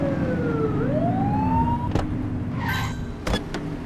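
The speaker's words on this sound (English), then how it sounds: "Get behind them and flip the siren and make them pull over." A police car siren in the video game The Precinct whoops and rises over a steady engine hum, with a few sharp clicks and a brief electronic chirp toward the end.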